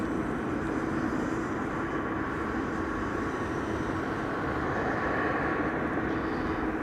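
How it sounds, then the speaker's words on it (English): A BA City Flyer Embraer 190 arriving at Amsterdam Schiphol from London City produces a steady, fairly faint jet drone, a continuous broadband rumble with no distinct changes and no talking. "BA City Flyer arriving from London City. Flight 8451, Embraer 190."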